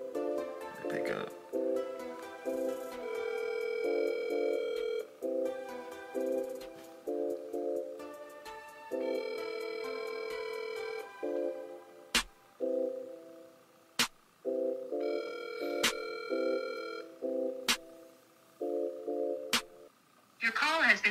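A phone call rings unanswered and is forwarded to voicemail, with a repeating electronic ringback pattern of tonal bursts and sharp clicks, while voices talk over it.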